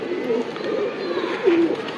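A pigeon at a tournament loft coos low and soft a couple of times, close by, under a steady background murmur.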